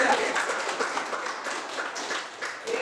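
University students in a classroom applauding, a dense continuous patter of many hands clapping at once, steady and moderately loud for a few seconds.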